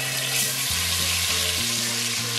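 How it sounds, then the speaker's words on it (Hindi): Garlic ginger paste sizzling in a frying pan of hot oil over medium heat for mutton degi qorma, a steady close crackling fry with stirring and a low musical tone underneath, no talk. "आंच को दोबारा मीडियम करके अब हमने इसमें लहसुन अदरक का पेस्ट ऐड कर देना है।"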